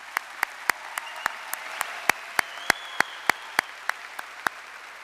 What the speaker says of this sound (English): How about another round of applause for our singers and band?